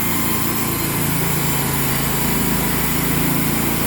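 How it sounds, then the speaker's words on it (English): A faulty motor on a sawmill runs under throttle, a loud, continuous high-pitched engine drone with a rough, buzzing edge that holds steady for the whole stretch. "Sometimes you get bad motors. Holy moly, that's pretty bad."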